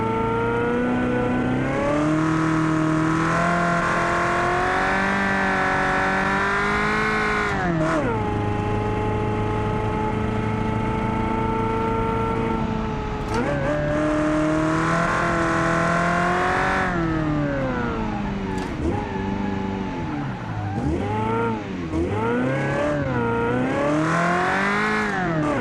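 A simulated car engine from the Automation game on the WOSSOM test track, loud and close, climbing steadily in pitch through the gears with a drop at each shift, repeated over several runs.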